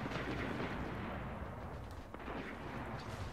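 Gunfire at a boss in Destiny: a continuous dense barrage of booming shots and rumbling blasts, loud and steady throughout with no pauses.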